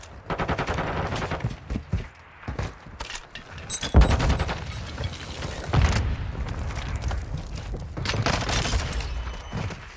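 Gunfire and a grenade blast ring out during a ranked online shooter match, with bursts of rapid shots and booming hits scattered across the stretch, loud and close, some overlapping.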